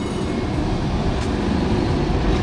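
A Lisbon street tram rolls past close by, a loud continuous rumble of wheels on rails with faint clicks, no talk over it.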